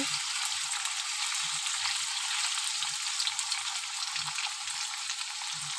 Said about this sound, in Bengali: বেশ ভালো করে আলুটা ভেজে নেব।